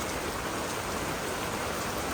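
Steady rain falling, a dense close hiss of drops on surfaces lasting throughout with no voices.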